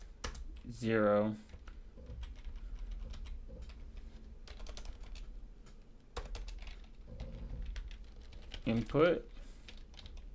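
Computer keyboard keys clatter in a steady, close patter during assembly-language coding, with someone speaking briefly at the start and again near the end.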